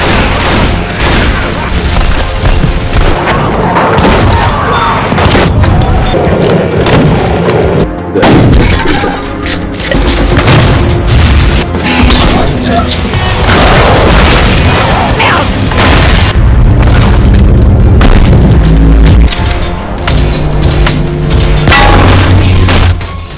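Video game shotgun fire, with loud repeated booming blasts and crashes one after another over a continuous dense mix of game sound effects.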